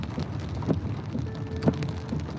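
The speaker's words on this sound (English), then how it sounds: "Raining here in London, North London." Steady rainfall in North London hisses throughout at an even level, with a couple of slightly louder patters standing out against the constant wash.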